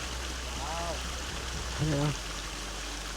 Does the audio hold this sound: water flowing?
yes